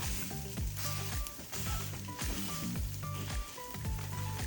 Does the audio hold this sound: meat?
yes